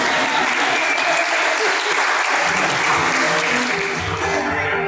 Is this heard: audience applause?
yes